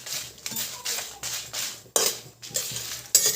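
A spoon stirs dried chillies and five-spice as they roast in a pan on a gas flame, making repeated close scraping and clinking strokes about every half second, with no talk.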